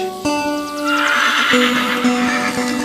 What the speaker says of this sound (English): Horses, they think that they need to be fed since I'm out here.